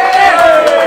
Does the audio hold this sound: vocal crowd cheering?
yes